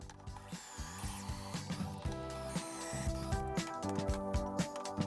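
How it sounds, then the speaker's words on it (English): A Kreg pocket hole jig is adjusted for a 3/4-inch board, giving a run of small plastic and metal clicks and ratcheting taps, fairly close and quiet, with faint tonal sounds in the background. "I'm setting the Craig jig to 3/4 of an inch, the width of the board that I'm drilling into."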